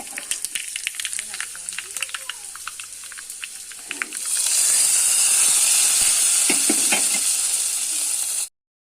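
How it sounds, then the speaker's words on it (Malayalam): Mustard seeds dropped into hot oil for tempering set off a loud, steady hiss and sizzle with scattered sharp pops; it starts partway through, after a quieter stretch of faint kitchen sounds, and stops abruptly. "അങ്ങനെ കടുക് പൊട്ടിക്കാൻ വെച്ചിട്ടുണ്ട്."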